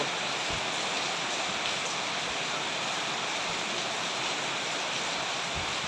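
Heavy monsoon rain pours down outdoors in rural Thailand, a dense, loud, steady hiss of drops on surfaces with no let-up and a few low thumps beneath.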